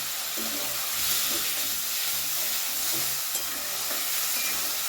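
Spices with coriander powder and a splash of water fry in a pan, giving a steady broadband sizzle with soft scraping stirs scattered through it, close and continuous, with no talking.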